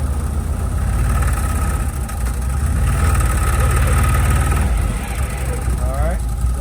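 A CFMOTO UFORCE 1000 side-by-side with a stage clutch kit running in low gear, a steady close engine drone with rising whine near the end, someone talking over it.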